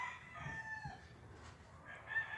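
A rooster crows faintly in the distance, one drawn-out call followed by a second rising crow, with no other voices nearby.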